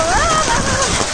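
Heavy rain pours steadily and loudly, a dense continuous hiss filling the scene, with voices speaking over it.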